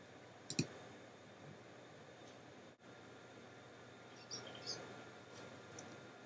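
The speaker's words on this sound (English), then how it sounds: "I just need to right click it and select open" A computer mouse right-click: a sharp, close click near the start, then a couple of fainter clicks later over quiet room noise.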